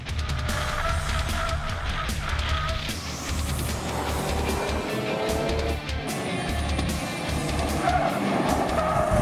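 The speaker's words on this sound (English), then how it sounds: "So I'm gonna go thrash this car, get it really hot, and see if she likes it." A 2016-2018 Ford Focus RS driven hard on a race track, its engine revving and shifting continuously with brief tyre scrubs, loud and close throughout.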